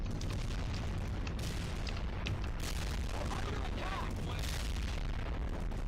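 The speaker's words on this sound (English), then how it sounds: "Firing grenade launcher." Grenade launcher firing and exploding in a military video game: continuous loud booming blasts and rumbling detonations, dense and close, with talk layered over the battle noise.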